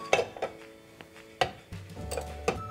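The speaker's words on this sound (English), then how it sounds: "we're going to add our butter" Butter goes into a pan of warm coconut milk and cocoa, with a few sharp spoon-and-pan clinks and a short scrape over a low kitchen background.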